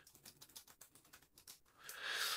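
Keys on an iPad keyboard are typed at close range in a quick, uneven run of soft clicks, ending in a brief rising hiss, quiet and without any voices.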